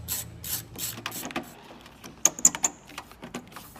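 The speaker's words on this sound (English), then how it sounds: "Remember to use a 7 millimeter socket." A ratchet fitted with a 7 millimeter socket clicks through quick bursts while removing a door speaker on a Ford Explorer police vehicle, close and fairly quiet, with some handling noise around the sharp ratcheting.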